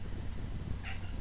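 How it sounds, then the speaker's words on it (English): A pet cat gives a single short meow partway through, faint and set back behind a steady indoor hiss and low hum. "sorry if you hear my cat meowing in the background"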